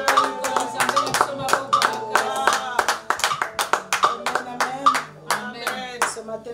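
A prayer-meeting congregation claps to acclaim the Lord, with steady, rhythmic hand claps close and loud over singing and music.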